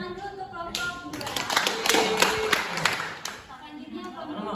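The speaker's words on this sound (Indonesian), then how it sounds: "Tepuk tangan dulu untuk kelompok dua." A school classroom of students applauding a student group: a burst of many hands clapping in the middle, with surrounding room noise and voices before and after.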